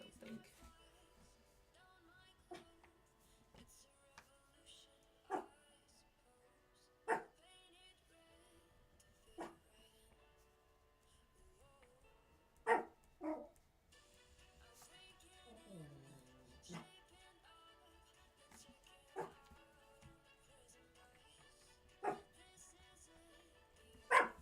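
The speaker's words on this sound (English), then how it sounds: "I apologize for my dog." A dog barks in a few sharp, isolated bursts spread across a quiet indoor setting, with a brief whimpering whine in the middle and a faint voice in the background.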